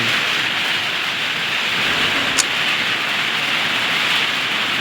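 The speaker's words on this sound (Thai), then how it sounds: "ฝนตกแล้ว" Steady, heavy rain hisses continuously, a dense wash of noise with no pauses, close and loud throughout.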